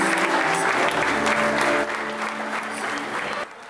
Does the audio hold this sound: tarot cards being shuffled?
no